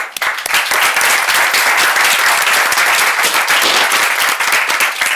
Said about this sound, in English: I ask you for a big applause for Dr. Grossman.